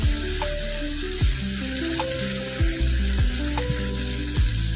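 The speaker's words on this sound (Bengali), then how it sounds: "এটা এবার এর সাথে কষাতে থাকবো যতক্ষণ না বেগুন মশলা আর লোটে মাছটা সুন্দর মাখা মাখা" Lote fish and eggplant masala sautéed together in a pan make a steady, close sizzle with repeated scraping strokes of a spatula, heard alone without talk.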